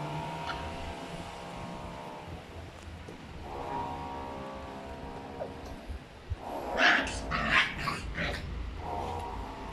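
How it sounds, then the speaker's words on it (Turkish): An American Staffordshire Terrier puppy growls low and steadily, then breaks into a few sharp, close barks before settling back into growling. "En uslu köpeği bile çıldırttın sen Raşa'ya."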